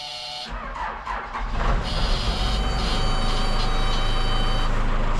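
A Cardillo tractor engine cranks and catches, rising into a loud steady running rumble with a high whine, close by and without talk.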